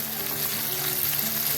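Onion and tomato frying in a pan for aloo poha, a steady soft sizzle heard close by with no one talking.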